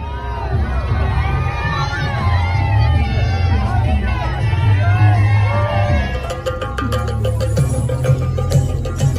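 Crowd gathered for King Charles, a loud babble of voices with scattered cheers and shouts over low rumbling wind or handling noise, steady throughout, with a rough crackling burst near the end.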